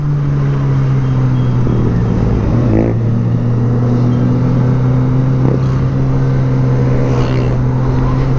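Kawasaki ZX25R motorcycle being ridden, its engine droning loudly and steadily up close, with slight shifts in pitch as the throttle changes and constant wind rush underneath.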